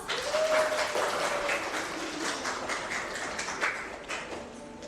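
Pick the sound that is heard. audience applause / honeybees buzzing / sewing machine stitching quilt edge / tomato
audience applause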